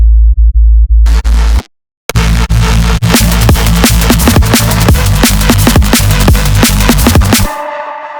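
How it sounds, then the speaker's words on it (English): A sub bass patch from the Serum synth, layered with a mono Reese-style bass, plays a pulsing low tone under repeated sharp rhythmic hits, loud and steady, then drops away into a faint tail near the end. "Then I have a sub bass."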